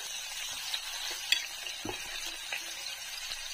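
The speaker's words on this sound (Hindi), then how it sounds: "तो सारे मूंगफली को गर्म तेल में डालेंगे" Steamed peanuts frying in hot oil in a pan for a bean pod pickle, a continuous close sizzle with soft scraping stirs and a faint clink of the utensil.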